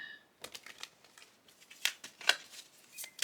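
Tarot cards being shuffled nearby: a series of soft, crisp riffling and flicking bursts, quiet overall with a few sharper snaps, and no voices.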